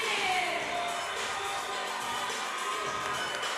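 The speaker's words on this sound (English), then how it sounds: "The crowd is cheering on Malik Walker." A crowd at a fitness competition cheering on an athlete, a sustained wash of voices and shouts held at a steady level with announcer-style talk mixed in.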